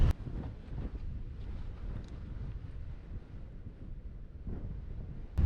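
Strong wind gusts across an open mountain fell near High Raise, buffeting the microphone in a constant loud low roar with heavier blasts at the start and end, and no voices.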